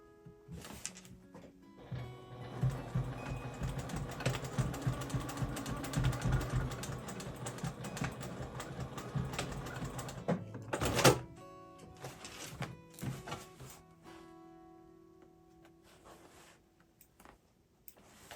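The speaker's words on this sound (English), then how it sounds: "Because this is so thick, I'm gonna go through and put another row of stitching." A sewing machine stitches a second row through thick clear vinyl, giving a quiet rapid clatter that builds, peaks with a sharp clack near the end, and then settles into softer intermittent ticks.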